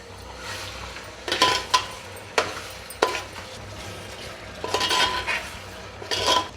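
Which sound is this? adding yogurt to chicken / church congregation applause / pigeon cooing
adding yogurt to chicken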